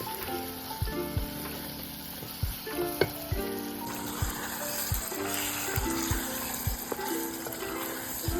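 Prawns and spices being sautéed in a frying pan with yogurt and milk powder, a steady sizzle broken by regular scraping and stirring knocks of a spatula, close and moderately quiet with no talk.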